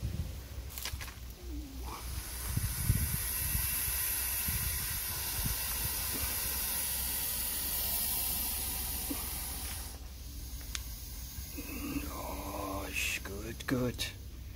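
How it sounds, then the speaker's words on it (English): A Burmese python hisses with a long, steady, airy rush of breath that holds for several seconds. Voices and handling noise come and go around it. "but she's hissing"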